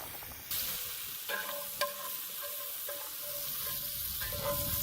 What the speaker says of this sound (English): Just going to dump them in the bacon grease. Let them saute for about maybe 2 or 3 minutes